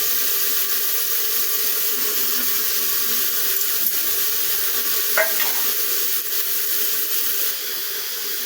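Masala spices, including chili powder, garam masala and chicken masala, sizzle and fry in a pan with a steady hiss while being stirred, with a brief clink partway through.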